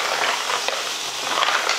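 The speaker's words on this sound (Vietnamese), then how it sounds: "Trong ốc có nước mà quý vị, nên là nó xèo xèo và nó bốc khói như thế đấy." Snails stir-fried in a hot pan with garlic, giving a steady, close broadband sizzle and hiss that runs throughout with small crackling bursts, with no talk.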